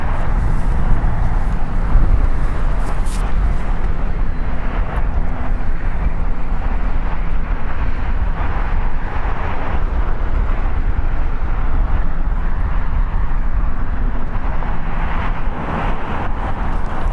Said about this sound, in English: Departing is United Airlines Flight 39 going to Tokyo.